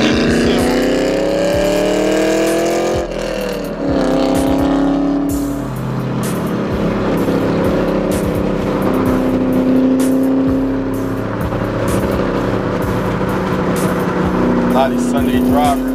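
A 2020 orange Dodge Charger Hellcat on the road, its engine climbing in pitch through repeated revving pulls and gear changes, loud and close from inside the cabin, with someone talking over it.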